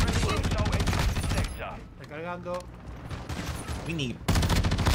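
Rapid bursts of automatic gunfire in Call of Duty MW2, loud rattling volleys at the start and end with a pause between, while a player talks briefly.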